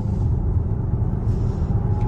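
Volvo EX40 Twin Performance electric SUV with 441 hp accelerating hard from inside the cabin, a steady low road rumble and faint rising motor whine running continuously with no talk.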